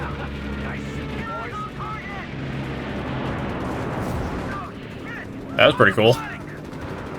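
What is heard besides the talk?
MG-42 machine gun fire in the video game Company of Heroes 3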